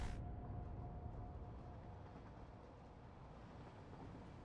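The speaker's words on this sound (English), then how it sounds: "Train." A train rolling along in the factory-building game Satisfactory, a low, steady rumble with a faint rising hum and light clatter, fairly quiet and distant, no voices.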